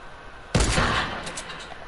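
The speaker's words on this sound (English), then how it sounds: "I hate gunshots, Danny." Video game gunfire: a sudden loud burst of shots erupts after a brief quiet moment, then rattles and decays over the next second with a few trailing cracks, no talking.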